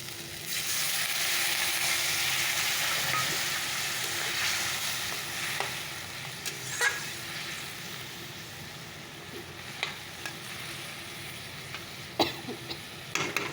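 Water poured into a hot cooking pan sets off a strong sizzling hiss that gradually settles, followed by scattered clinks and stirring knocks from a utensil.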